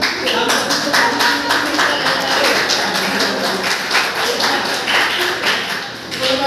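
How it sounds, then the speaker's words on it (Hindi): An audience at a ceremony claps steadily and loudly throughout, a dense wash of hands close and sustained without breaks, with some voices underneath. "तालियां"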